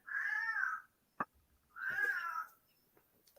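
A cat meows twice, long drawn-out calls close by, with a couple of soft clicks and quiet pauses in between.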